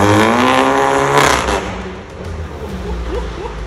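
Volkswagen Polo 1.4 engine with a new exhaust: a close, loud rev that climbs for about a second, cuts off abruptly, then falls to a low burbling idle with faint crackles.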